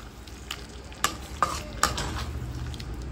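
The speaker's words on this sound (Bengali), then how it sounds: "আমি দিয়ে দিচ্ছি আগে থেকে পেস্ট করা কাজু বাদাম, চারমগজ, সাদা তিল দিয়ে ভালো করে এবার নাড়িয়ে নিচ্ছি।" A paste of cashews, melon seeds and white sesame sizzles steadily in a frying pan while a spoon stirs it, with three sharp scraping knocks standing out over the constant close fry.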